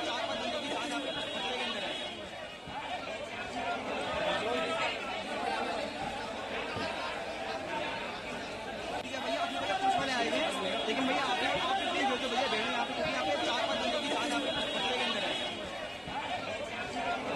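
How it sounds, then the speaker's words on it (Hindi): A large crowd gathered at the site of a collapsed four-storey building in Malka Ganj, Delhi, with a steady, dense babble of many voices and chatter continuing throughout. "आम लोगों की भीड़ भी काफ़ी लगी हुई है।"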